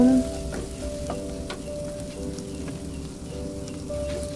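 Galangal and bay leaves stir-fry in a pan for chicken bacem, a steady close sizzle with light crackling and occasional scrape of stirring, no voices.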